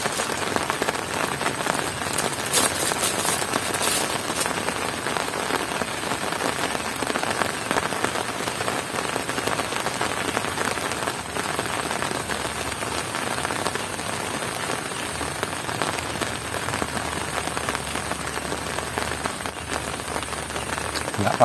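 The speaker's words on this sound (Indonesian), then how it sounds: "Tadi di jalan baru sudah datang hujan." Light drizzle falls steadily on a scrubby rural road far from a village, a dense, even patter of raindrops with no pauses throughout.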